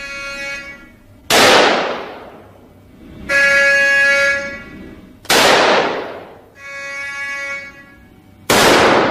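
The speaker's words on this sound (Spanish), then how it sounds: "El material recibe 3 disparos." Three sharp, loud gunshots ring out a couple of seconds apart, fired at armor material in a test, each followed by a humming tonal drone between the blasts.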